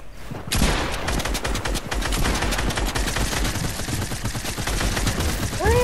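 Sustained, dense gunfire in the Fortnite video game, with many overlapping shots rattling continuously at close range and at steady loudness, ending with a few faint chirping tones.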